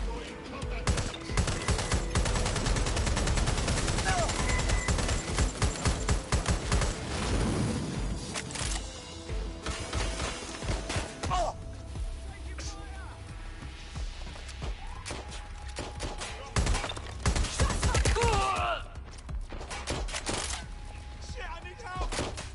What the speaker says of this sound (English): Careful! Shots fired! I'm hit!